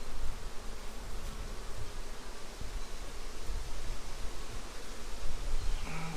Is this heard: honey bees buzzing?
yes